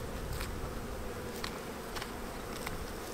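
Honey bees buzzing steadily at an open hive in January while a pollen patty goes on, a dense continuous hum close by with a few faint handling clicks and no voices.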